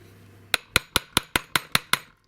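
A fairly large hammer strikes a small metal vise eight times in steady, evenly spaced blows, each a sharp, bright, ringing metallic clank, close and loud against a quiet room.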